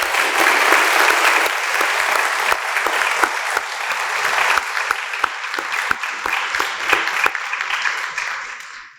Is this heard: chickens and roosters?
no